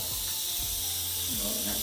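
Loud continuous hiss of steam venting from an Instant Pot with a towel laid over the vent, with faint voices talking underneath.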